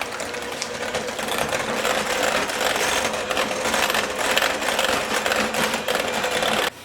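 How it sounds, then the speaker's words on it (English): An electric hand mixer beats sour cream into a cheese mixture for keto lasagna, giving a steady, loud whirring buzz that runs continuously with no talking over it. "I'm going to take my hand mixer and I'm just going to mix this together."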